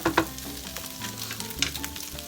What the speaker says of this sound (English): We're going to stir it around occasionally.